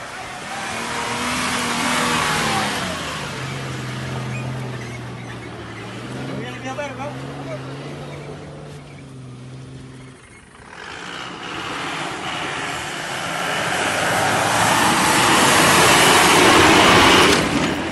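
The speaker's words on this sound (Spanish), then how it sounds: "Camionetas 4x4, doble tracción, pueden pasar bien" 4x4 pickup trucks with four-wheel drive crossing a roughly repaired landslide road in Colombia: a steady vehicle engine rumble with gear whine, fading briefly near the middle and then swelling louder again, with voices talking over it.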